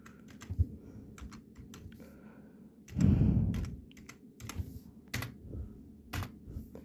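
Someone types a password on a computer keyboard, a run of light key taps with short pauses and a louder burst of bumps near the middle, alone and close by.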